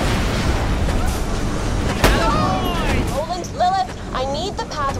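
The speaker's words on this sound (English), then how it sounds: "we'll start shooting stuff" Gunfire and blasts ring out in Borderlands The Pre-Sequel, a steady barrage of shots with one sharp crack near the middle, mixed under game voices and chirpy electronic effects.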